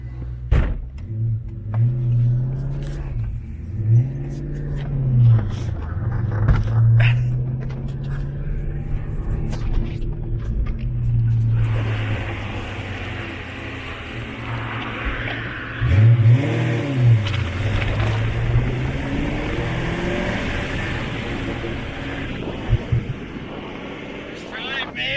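A lowered drop-top GT car, off the road for about ten years, drives and revs, its engine note rising and falling in repeated surges with wind noise, while people talk and shout over it.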